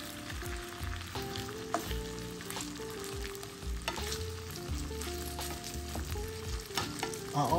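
Venison sausage browns in a pan with a continuous sizzle, while clattery, tonal kitchen sounds and occasional knocks run over it steadily from start to finish.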